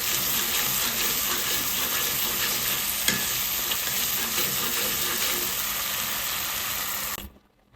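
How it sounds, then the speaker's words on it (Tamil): Chicken sizzles loudly as it fries and is stirred in a pan for a homemade Korean chicken dish, a steady crackling hiss throughout with occasional scrapes, cutting off abruptly at the end. "ஓகே, இதுவும் நல்லா கிண்டுங்க"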